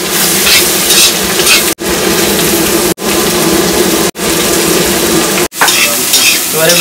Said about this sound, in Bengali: এবার একটু ভালো করে নেড়ে দিচ্ছি